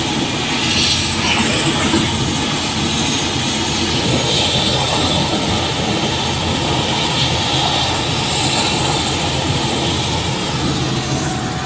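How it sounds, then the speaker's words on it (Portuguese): Helicopters flying in a played-back recording, a loud continuous roar of engines and rotors that holds steady throughout, with no clear speech over it. "meu querido Felipe, coloca aí os helicópteros, vai colocando os helicópteros para cima"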